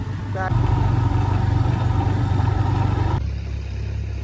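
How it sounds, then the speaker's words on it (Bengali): A motorcycle engine runs steadily with a loud, rhythmic putter, close to the listener, then drops to a lower idle near the end. "এখন আমি বাইক নিয়ে বেরিয়ে যাচ্ছি"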